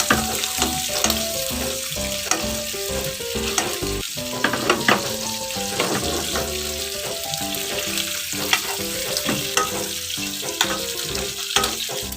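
Pork chops in a pan being basted with butter and garlic over lowered heat, a loud, busy sizzle with frequent spoon scrapes and clinks against the pan running throughout, no voices.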